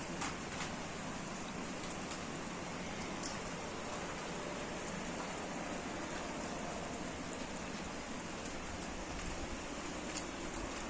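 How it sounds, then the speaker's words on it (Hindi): Steady, dense rain pours down continuously, a broad hissing wash with scattered drop patters and no voices. "जो नीचे वाला हिस्सा है वहाँ पे हो रही है बारिश।"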